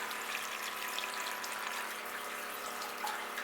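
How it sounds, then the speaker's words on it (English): Small bilge pump pushing water through a gold sluice box with a silicone mat, a steady continuous trickle and splash of flowing water, fairly faint and close, with no talking. "Turn it down. You can hear the pump,"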